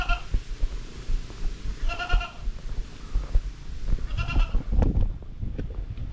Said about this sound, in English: More sheep, goats maybe.